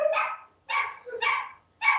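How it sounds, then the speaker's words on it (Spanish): Dogs bark four times in quick succession, close and loud, with short pauses between the barks and no other sound around them. "Esos son mis perros."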